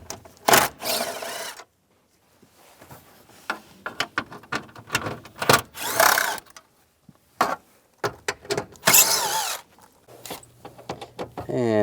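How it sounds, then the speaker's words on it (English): A ratchet and 7mm socket backing out bolts on a Chevrolet Trailblazer's blend door actuator housing, with short bursts of clicking ratcheting separated by pauses and some quiet rubbing and handling noises, heard close up. "I'm going to take these bolts out. There's 4. Use a 7mm socket."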